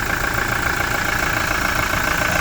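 A 2019 Toyota Hilux 2.8 turbo diesel engine idles steadily at close range, a constant low rumble with a slight knock and no voices.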